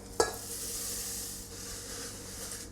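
Crispy rice cereal being folded into a peanut butter mixture in a saucepan gives a steady crackly, rustling hiss, with one sharper knock near the start and no voices.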